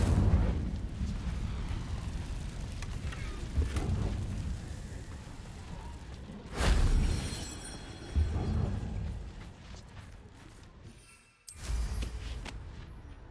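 The Incendio fire spell in Hogwarts Legacy lands as several roaring, whooshing bursts of flame over a rumbling game background, with the loudest blasts coming at irregular intervals.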